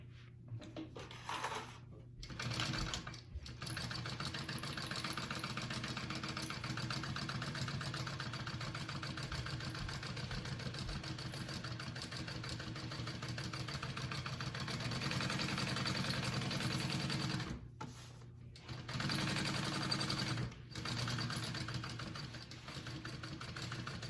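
A sewing machine bastes a fabric pocket onto an Erica Bowler bag, giving a steady close motor whir that runs almost continuously, with a few brief stops, and no talking.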